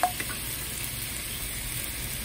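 Eggs frying in a pan for a vegetable fried rice, a steady close sizzle holding evenly throughout with no talk.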